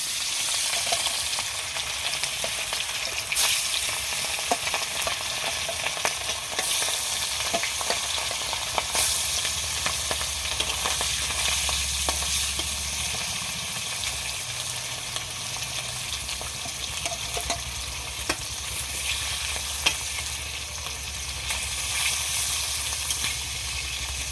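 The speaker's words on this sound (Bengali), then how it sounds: "তেলটা গরম হয়ে গেছে, এবার আমি মাছ দিয়ে দেব।" Pieces of a large glasscup fish fry in hot oil, giving a steady, dense crackling sizzle that runs throughout, with occasional sharper pops and faint stirring.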